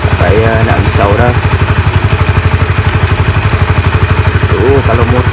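A Honda RS150R motorcycle engine idles steadily at close range after a spark plug change, with a loud, even, rapid pulsing throb under intermittent speech.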